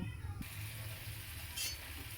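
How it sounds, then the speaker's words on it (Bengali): Pabda fish hit hot oil in a wok and a steady, quiet sizzle starts, with a brief louder crackle partway through. The sound stays close and faint throughout. "তেলটা গরম হলে এরপরে মাছগুলো এক এক করে ভেজে নেব"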